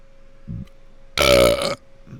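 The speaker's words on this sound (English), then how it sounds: "Sorry for burping on you just now" A single loud, drawn-out burp lasting about half a second, close up, with faint murmurs just before and after.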